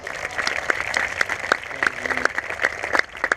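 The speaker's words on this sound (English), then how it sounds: "Let's give them a round of applause." Applause for two music composers, with scattered claps standing out over a broad wash of clapping and a voice briefly sounding beneath.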